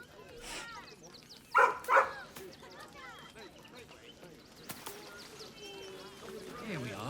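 Biscotti, a dog in Baldur's Gate 3, gives two short close barks in quick succession against a quiet game ambience, followed by a brief soft yip later on.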